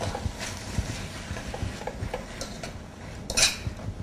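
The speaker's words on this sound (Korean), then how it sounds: "이렇게 볶아서 고기하고 김치가 잘 볶아질 때까지만 섞어주시면 됩니다" Pork and kimchi stir-fried in a pan with a utensil, giving light scraping and clinking taps at an irregular pace, close and fairly quiet, with one sharper metallic clatter near the end.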